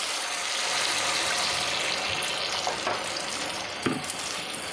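Water splashes into a pan of coconut-milk masala for hilsa fish on a lowered flame, producing a broad hissing, bubbling sizzle with a few louder spatters, close by and without talk.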